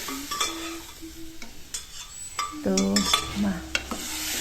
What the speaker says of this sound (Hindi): दाल मैंने पहले उबाल ली थी और अभी छौंका मार देते हैं इसमें